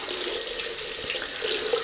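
Water runs steadily from a bathroom tap to warm a Muhle R41 safety razor, a constant close hiss and splash with no pauses.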